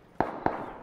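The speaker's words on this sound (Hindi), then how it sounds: "कहाँ से आ रहा फायर?" Gunshots in a PUBG 4 vs 4 match on the Erangel map ring out three times at uneven intervals, each a sharp crack with a short tail, moderately loud and with no talk over them.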